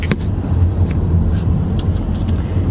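Inside a moving car, a steady low engine and road rumble runs throughout, with a few faint knocks and rustles nearby.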